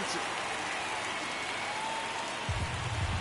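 Heavy rain pouring at Truist Park during a World Series baseball game, a steady broad hiss across the ballpark with a brief low rumble of crowd noise near the end.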